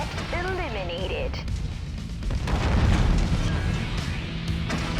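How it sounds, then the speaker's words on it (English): Heavy booming autocannon fire from an AC-20 on a battle mech in MechWarrior 5 Mercenaries, deep thudding blasts rolling under continuous game sound, with a brief electronic warble early on and no talking. "I really like shooting the AC-20. Is very satisfying to shoot."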